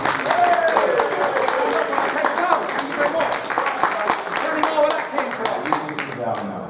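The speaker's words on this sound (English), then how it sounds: "Give him applause, please." A boxing press conference audience in London applauds Tyson Fury with a burst of clapping, while voices and chatter carry on over and through it.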